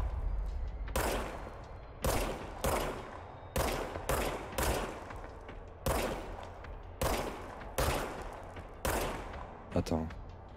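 Loud, close gunfire from a gun in the video game Control comes as a steady run of about a dozen heavy, booming shots, each ringing into a dense wash of reverberation before the next.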